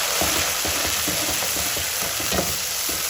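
Chopped tomatoes sauté in sesame oil for a Chettinad brinjal curry, a loud continuous sizzle broken by regular scraping stir strokes from a spoon in the pan.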